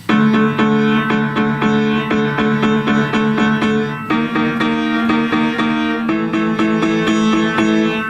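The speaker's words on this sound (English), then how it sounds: "So I'm going to play 45 right on the, I'll play it on the D" A trombone plays a steady run of short repeated notes on D, loud and close, with a brief pause midway before the line continues.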